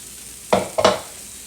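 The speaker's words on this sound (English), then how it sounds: "the secret is you want your pancake to fry" Sausage pancake batter hitting hot oil in a pan, two quick loud sizzling bursts close up that settle into a faint frying hiss.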